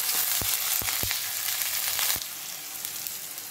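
Mustard seeds, cumin, bay leaf, onion, tomato and curry leaves frying in hot oil for masale bhat, a constant close sizzle with a few sharp pops and crackles early on, then easing to a softer hiss.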